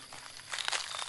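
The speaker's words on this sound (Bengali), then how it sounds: "আর জঙ্গলের শুকনো পাতার উপর পা ফেলে ফেলে" Soft crunching and crinkling of dry leaves in a forest, a few quiet uneven steps growing louder toward the middle, close by with no voices.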